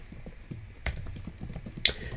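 Typing on a computer keyboard with steady, quick, close key clicks and one sharper tap near the end, no voice over it.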